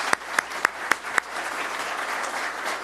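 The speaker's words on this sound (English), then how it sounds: "If we could please give all the panelists a round of applause, thank them for their efforts." Conference audience gives panelists a round of applause, a sustained crowd clapping texture opened by five sharp, evenly spaced louder claps close to the microphone.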